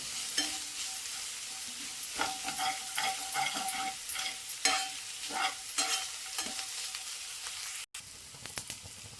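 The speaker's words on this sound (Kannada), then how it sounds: "ನಾವೇನೇ ಹಾಕಿದ್ರು ಕೂಡ ಚೆನ್ನಾಗಿ ಮೀಡಿಯಮ್ ಫ್ಲೇಮ್ ಇಟ್ಕೊಂಡು ಚೆನ್ನಾಗಿ ಗರಿ ಆಗೋ ರೀತಿ ಫ್ರೈ ಮಾಡ್ಕೋಬೇಕು" Curry leaves and coriander leaves sizzle in a pan on a medium flame for palak dal. They crackle softly while a spoon scrapes and stirs in repeated strokes, with no voices.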